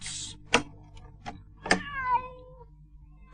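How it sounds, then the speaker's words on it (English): Snow-white cats meow in a few separate, drawn-out cries, each rising and falling in pitch, heard close and otherwise alone with quiet pauses between them. "a swarm of snow-white cats"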